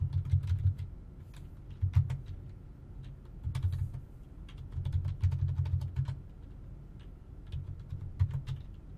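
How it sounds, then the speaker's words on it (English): Typing on a computer keyboard to fill in form fields, heard as bursts of quick key clatter separated by short pauses, fairly close and steady, with no talk. "if I type in something in every field"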